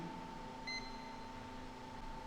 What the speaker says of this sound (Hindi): ऑन करते ही यहाँ पर आपको इसकी बीप सुनाई देगी